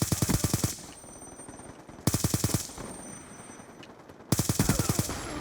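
Futuristic AK-47 gunfire in a Black Ops video game: three loud rapid-fire automatic bursts, each lasting under a second, separated by short gaps with quieter background in between.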